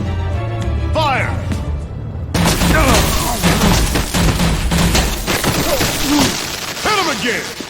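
Gunfire volleys crash through a Batman: The Enemy Within scene, heavy booming bursts and impacts layered under shouting voices and dramatic action noise.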